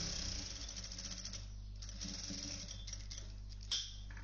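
A sewing machine runs a quiet, continuous mechanical chatter while double-stitching a frock seam. Near the end there is one brief, sharper click.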